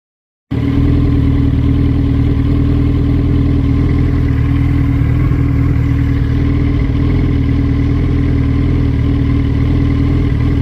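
A Harley motorcycle engine runs steadily and loud right up close during a ride around the block, a constant low rumble with no talking over it.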